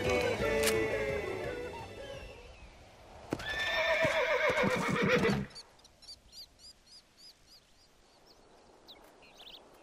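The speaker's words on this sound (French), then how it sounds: "Laisse ce cheval tranquille." A horse neighs loudly in Red Dead Redemption, a long whinny followed by a second burst, then softer rhythmic hoofbeats trotting away over quiet ambient game sound.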